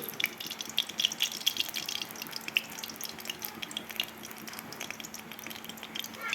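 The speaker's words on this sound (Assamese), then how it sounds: "এতিয়া কেৰাহীত মই অলপমান তেল ঢালি দিছোঁ," Mustard oil poured into a wok while cooking an Assamese local chicken curry, a soft steady trickle and spatter with small drips, close and moderately quiet with no talking.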